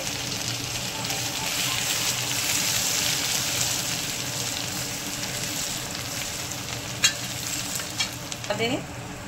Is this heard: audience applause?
no